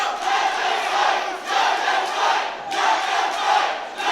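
Live wrestling event crowd shouting and chanting, a loud, continuous roar that swells and dips in rhythmic waves, filling the arena without any clear voice standing out.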